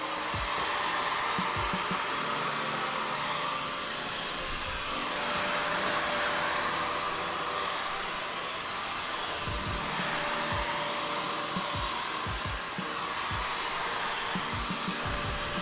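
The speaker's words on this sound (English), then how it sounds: "This is a dust cleaner for computers. It actually blows air really fast." Electric computer dust blower blasting fast air across acrylic pour paint, a loud steady hiss and whine that swells in intensity in a few bursts, close up and uninterrupted by voices.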